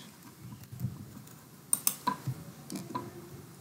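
Keystrokes on a computer keyboard while code is written, a loose cluster of soft clicks and taps over a low room hum, fairly quiet with no speech.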